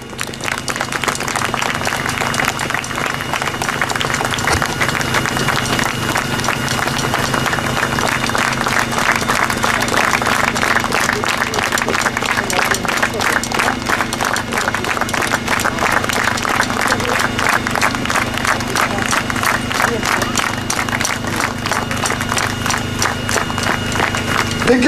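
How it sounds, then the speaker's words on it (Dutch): A crowd at an outdoor doll-burning event in Wetteren claps in a loud, sustained, rhythmic applause with a fast even beat that carries on without a break, and voices are audible underneath. "Mag ik alsjeblieft nog een keer een zwaar applaus voor onze Mario"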